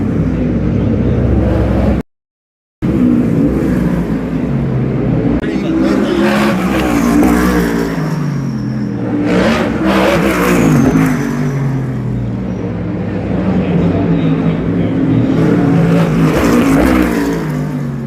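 NASCAR race cars on a street circuit on Michigan Avenue in Chicago, during a session before the race. A loud, steady engine roar rises and falls as cars pass, and a voice talks over it throughout.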